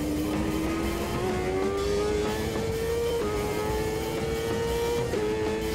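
A race car engine howling steadily through a lap in the Automobilista 2 driving game, its pitch climbing gradually and dropping sharply with each gear change, loud and continuous.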